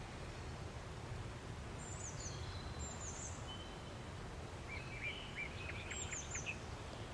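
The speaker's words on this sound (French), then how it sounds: "Prenez le temps d'écouter le chant des oiseaux," Birds chirping faintly and far off in a quiet landscape, a few thin high calls over steady soft background noise, with no talking.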